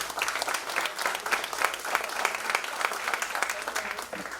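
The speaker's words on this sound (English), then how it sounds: "Let's give her a warm round of applause." A room full of guests at a 50th anniversary celebration claps warmly for a council member, with sustained, even applause and faint murmuring underneath.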